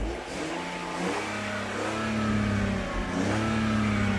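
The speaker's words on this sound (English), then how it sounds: "I just want to show you that if I rev the engine now," A BMW 323i engine under repair for a starting fault with the MAF sensor is revved twice from idle, its mid-pitched tone rising and falling smoothly each time, close and alone.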